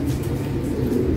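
Low, soft cooing of German Imbrek pigeons, a steady murmuring rhythm close by with no talking.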